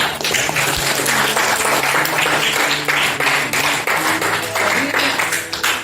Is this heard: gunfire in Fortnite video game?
no